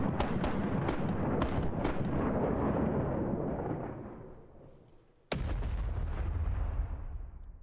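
Ship cannons firing in a pirate sailing game while the vessel holds anchor: a string of heavy booming shots that roll and fade into a long rumble, then one more sharp blast followed by sustained low roar, loud and without talk.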